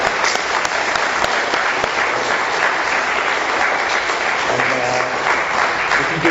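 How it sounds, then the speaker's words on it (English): An AA meeting audience in Doylestown gives the speaker a loud, close round of applause that carries on steadily and densely for several seconds without any talking. "Let's give one more round of applause to Terry."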